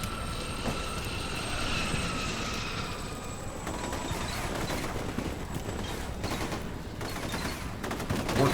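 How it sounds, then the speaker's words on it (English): Heavy gunfire in a Combat Mission Shock Force 2 battle with Marines, a dense, continuous crackle of many rifles and machine guns roaring steadily throughout, with an airborne engine drone underneath at the start. "Damn, that's some heavy fire."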